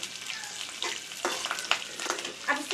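Onion, curry leaves and mustard seeds sizzle in hot tempering oil, a steady close crackling hiss with scattered pops and stirring scrapes, no talking.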